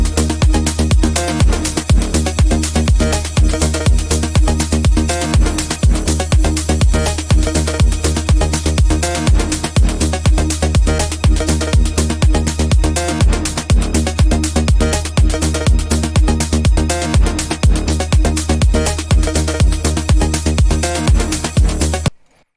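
Melodic techno loop with a reversed down filter effect, a dense, loud, continuous mix driven by a steady pounding kick pattern, running nonstop for over twenty seconds before cutting off abruptly.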